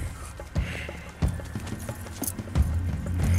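Rhythmic hoofbeats of a galloping horse in the video game Red Dead Redemption 2 thud repeatedly over a busy background, loud and close, with no talking.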